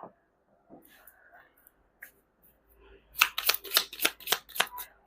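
Tarot cards are shuffled in a quick run of about seven crisp riffling bursts near the mic, following a stretch of quiet whispered talk.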